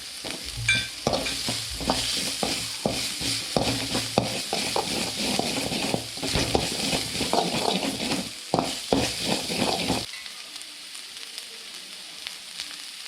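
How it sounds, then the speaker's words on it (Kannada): Green chillies sizzle and fry in a pan for veg Manchurian, a steady close crackle with scraping stir strokes throughout, cutting off abruptly near the end to quiet background. "ಈಗ ಹಸಿಮೆಣಸಿನಕಾಯಿ ಹಾಕ್ಕೊತಾ ಇದ್ದೀನಿ"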